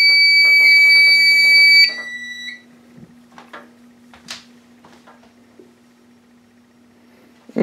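A Simplex-style fire alarm system sounds its tone during a test drill for about two seconds, then cuts off, leaving a steady hum with scattered clicks and faint ticking from the panel.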